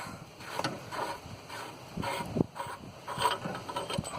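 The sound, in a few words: unscrewing cap on Ford GPW / Willys MB transmission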